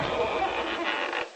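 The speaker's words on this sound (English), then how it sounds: "Hey, let me try that door." An old wooden door on a 1940s dairy farm creaks open in a radio drama, a steady, strained groan lasting over a second before stopping abruptly.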